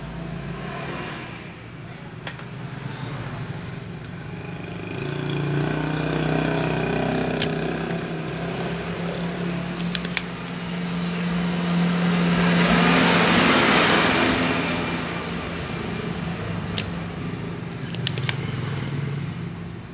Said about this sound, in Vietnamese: nhà cũng gần đường nha các bạn thì à, có nhiều xe cộ thì hơi bị ồn chút xíu ha